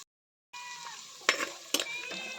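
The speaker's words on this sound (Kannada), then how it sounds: "ನೀರುಳ್ಳಿ ಬೆಳ್ಳುಳ್ಳಿ ಶುಂಠಿ ಚಕ್ಕೆ ಪೂರ ಪಾಡ್ದು ಫ್ರೈ ಮಾಡ್ಕೊಂಡುಲ್ಲೆ" Onion, garlic, ginger and cinnamon fry in a pan with a steady, close sizzle, punctuated by two sharp scraping stirs of a utensil against the pan.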